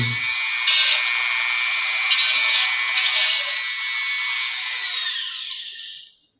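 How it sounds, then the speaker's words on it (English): A power grinder whines steadily and loudly as it grinds epoxy filler on a boat mold, a sustained high-pitched drone with brief pitch shifts before spinning down at the end. "I'll just grind away what I don't need."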